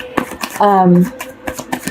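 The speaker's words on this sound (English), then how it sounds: "As I'm shuffling," A deck of Osho Zen Tarot cards is shuffled by hand, giving quick, close papery riffles and taps, with a brief voiced sound partway through.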